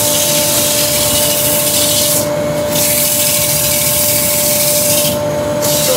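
A turned wooden bowl sanded on the lathe with 100 grit abrasive, a loud continuous close rubbing hiss over the motor's steady hum, the abrasive lifting off briefly twice.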